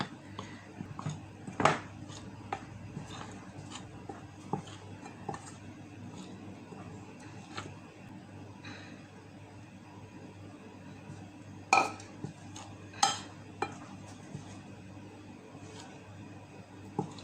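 A spoon clinks against a bowl as very hot water is stirred into dough for old-style Thai kalochi sweets, giving sparse, quiet clicks and taps with small louder knocks over a faint room hum.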